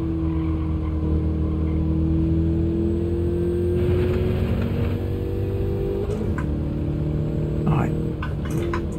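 Fiat car engine in a racing video game licence test, driven with an H-pattern manual gearbox and clutch, drones steadily throughout, its pitch climbing and shifting as the revs change, with faint clicks and bumps underneath.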